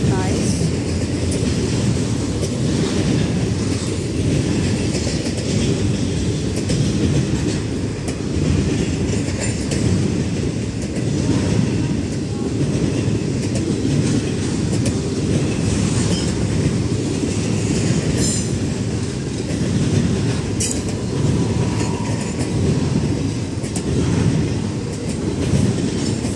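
A Norfolk Southern 20E freight train with a BNSF locomotive rolls past in Bethlehem, Pennsylvania, a loud, steady roar of wheels and cars with rhythmic clickety-clack and brief wheel squeals throughout.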